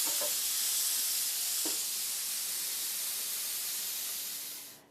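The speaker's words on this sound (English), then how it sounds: "Now you want to flip your meat over. Wow, look at that crust on there." Flank steak searing in a hot pan just after being flipped, giving a steady broad hiss of sizzling at close range that holds evenly for several seconds before cutting off abruptly at the end.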